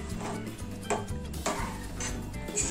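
Rice kheer stirred with a spoon after nutmeg and cardamom powder go in, giving a soft, steady scraping with a few light clinks of the spoon against the pot.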